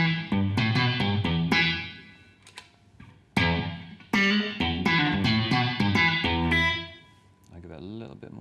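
MOOER Black Truck pedal adding a short room reverb to a distorted electric guitar playing chords and single notes, with a brief tail after each phrase, loud and close.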